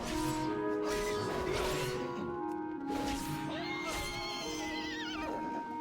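A horse neighs in the World of Warcraft video game, a loud whinny with wavering pitch repeating over a busy game soundscape of hooves and background effects.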